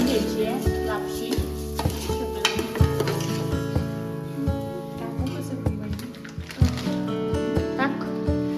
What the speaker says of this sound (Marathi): तूप छान असं गरम केल्यानंतर आता लापशी छान तुपामध्ये छान अशी परतून घ्यायची.